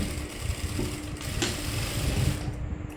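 An electric sewing machine stitching the lower part of a blouse, a continuous close whirring hum with a steady mechanical rhythm and no talking.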